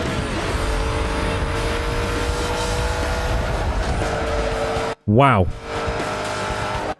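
A Ford GT races in Need for Speed Most Wanted with a loud, steady engine drone and tire squeal, then cuts out abruptly before a rising-and-falling whine, with a man briefly exclaiming over it.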